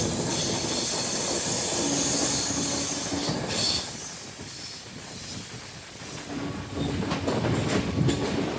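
A train crossing the 4.1 km Godavari road-cum-rail bridge, running on the lower rail deck beneath the roadway, with a loud steady rumble and hiss, squealing wheels and a clickety-clack rhythm throughout.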